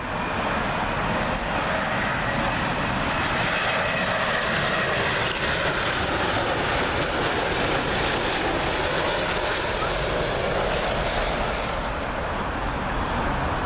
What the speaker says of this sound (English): Next up is Air France's A220. This one from Charles de Gaulle.